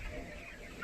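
Broiler chickens on a poultry farm near Shirur, Pune, give a brief, dense murmur of clucking, steady and fairly close, with no clear voices.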